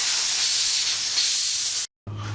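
Compressed air blasting through a Briggs plastic push-mower carburetor, a loud broad hiss that runs steadily, cuts off briefly, then resumes in a short burst.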